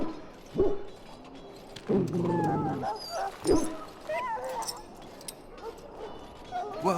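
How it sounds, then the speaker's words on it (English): A dog in the video game Dragon Age Origins whimpers, yips and gives short barks and whines, fairly close, with talk mixed in. "Now I can treat the dog properly, poor fella."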